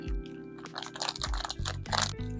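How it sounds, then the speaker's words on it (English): Close, crisp crunching of a snack being chewed, with several bursts of sharp crackly bites over a couple of seconds and no talking. "hopefully that'll keep the crunching to a minimum"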